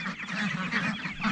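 A flock of around sixty ducks of mixed ages at feeding time, their raspy quacks and honks overlapping in a close, busy chorus that carries through the short moment.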